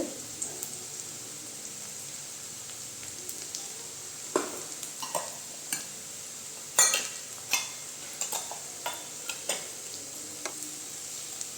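Onions sauté quietly in a pan for idli upma, a soft low sizzle with scattered clicks and scrapes of a spoon stirring, growing busier toward the end.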